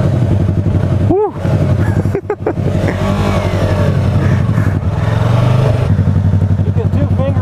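A motorcycle engine idles loudly and steadily up close, a low throbbing rumble that holds throughout with a couple of brief dips, while people talk over it as a rider settles onto someone else's bike.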